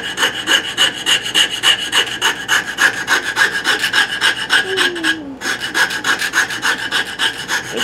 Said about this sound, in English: This rasp takes it off pretty fast